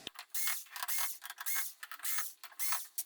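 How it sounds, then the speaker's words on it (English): A power screwdriver backs screws out of a Samsung UN60FH6003 TV's rear panel in a quick run of close, high-pitched whirring bursts, with short pauses between them. "We just pull the screws."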